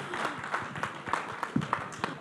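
An audience at the Viksit Bharat Conclave 2047 claps in a short, scattered burst of applause, moderately faint, mixed with some voices in the room.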